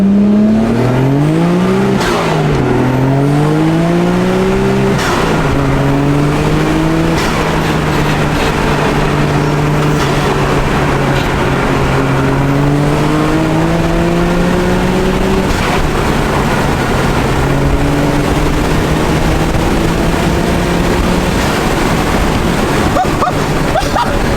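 A Nissan GT-R engine revs up loudly and pulls through rising and falling gears as the car drives hard, a close, continuous roar with shifting pitch throughout.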